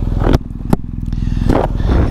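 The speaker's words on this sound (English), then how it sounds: "when that fires into life, you get a proper boom, side-to-side jerk where the boxer engine kicks in" BMW R1250GS boxer engine firing into life and settling into a steady, loud low rumble close by, with a couple of sharp clattering bursts over the running engine.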